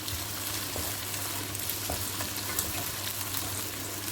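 Chinese biryani sizzling in a frying pan while being stirred, a constant dense crackle with scraping strokes of the spoon, close and steady, no talking.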